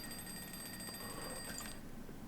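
An alarm clock in the video game Project Zomboid rings with a faint, steady high-pitched tone. The tone fades out before the end, with no voices.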